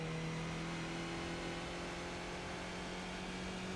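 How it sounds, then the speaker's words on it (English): Mazda MX5 engine in the iRacing simulator at Tsukuba, held at full throttle with a steady mid-pitched drone and constant tone, moderately loud and alone throughout. "after passing these curbs, full throttle"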